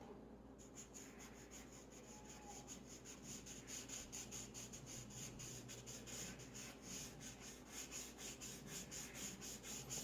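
Charcoal on paper being blended with a paper stump, a soft continuous rubbing and scratching with steady rhythmic strokes, close and fairly quiet throughout.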